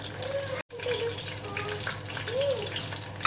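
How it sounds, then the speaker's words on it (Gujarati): Whole cloves, black pepper and cardamom fry in hot oil for a biryani, a steady close sizzle and crackle throughout with a brief dropout near the start and a few light clinks of stirring, no talking. "ખડા મસાલા સરસ ફ્રાય કરવાનું"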